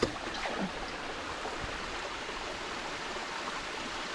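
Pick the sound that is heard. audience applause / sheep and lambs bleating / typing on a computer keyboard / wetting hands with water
wetting hands with water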